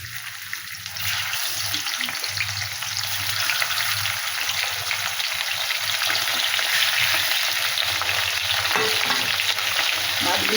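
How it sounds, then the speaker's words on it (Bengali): Fish coated with turmeric and salt frying in oil in a kadai, a steady close sizzle that swells after a quieter first second and holds evenly to the end. "মাছগুলো এবার ভালো করে ভেজে নেব।"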